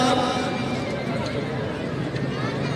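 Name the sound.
horse neighing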